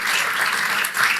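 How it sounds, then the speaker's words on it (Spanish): A church congregation claps enthusiastically during a sermon, a dense and steady burst of applause that swells slightly near the end. "Si va a aplaudir a Dios, dele con ganas."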